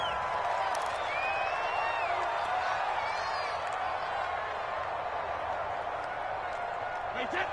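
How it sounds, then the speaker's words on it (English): Steady stadium crowd roar from a PS4 American football video game, a continuous wash of cheering and murmur with occasional whoops, heard under commentary voices throughout. "The crowd may be losing just a little bit of the edge after back-to-back punts."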